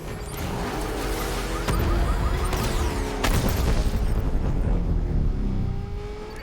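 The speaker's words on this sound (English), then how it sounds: "Firing rocket! Under heavy fire!" Dense, loud roaring of rocket fire and heavy gunfire in the Batman Arkham Knight video game, a continuous wall of blasts and booms with sharper hits landing every second or two.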